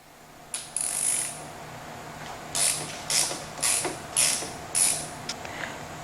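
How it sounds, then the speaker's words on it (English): Ratchet removing the brake caliper bolts on a 2014 Harley FLH motorcycle front end, a string of about six short, crisp clicking bursts in an even rhythm, close up with no talk. "now we're going to remove the calipers, 2 bolts on each side."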